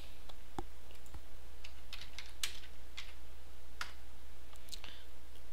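Sparse, light keystrokes on a computer keyboard, a few scattered clicks over a steady low electrical hum, close but quiet, with no talking.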